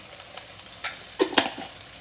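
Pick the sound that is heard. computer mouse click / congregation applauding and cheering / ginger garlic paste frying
ginger garlic paste frying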